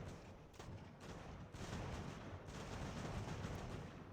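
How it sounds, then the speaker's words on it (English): Booming cannon fire in an American Revolution strategy game rumbles through a continuous low roar of battle, with a few heavier thuds standing out at a moderate distance. "Unfortunately, he engaged the cannon."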